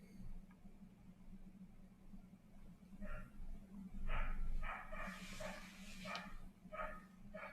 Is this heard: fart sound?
no